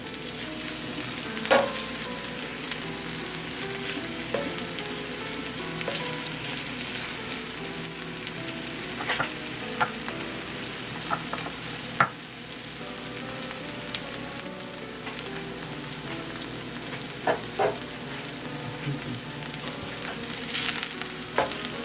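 Green chilies frying in a pan with garlic, a steady close sizzle with occasional stirring clicks of a utensil throughout, no voices.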